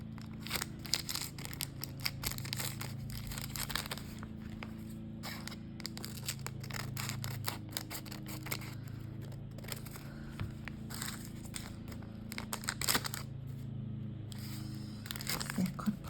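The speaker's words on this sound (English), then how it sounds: "I need to cut that off around there." Scissors snip through thin tea bag paper in quiet, irregular cuts, with soft crinkling of the paper between snips, heard up close.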